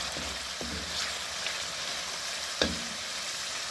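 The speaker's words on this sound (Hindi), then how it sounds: "अच्छी तरह भून लेंगे।" Ground masala frying in a pan for beef kofta, a steady close sizzle and crackle throughout, with a couple of brief clinks from stirring.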